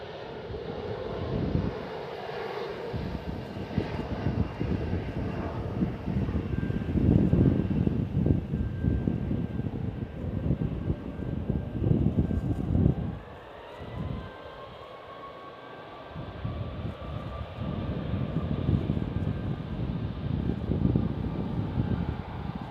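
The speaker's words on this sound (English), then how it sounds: "let's go for the E175 heading over to Seattle" An Embraer E175 jet takes off for Seattle from San Francisco International, its engines swelling into a gusty roar with a rising whine, dipping briefly midway before building again, mixed with wind buffeting.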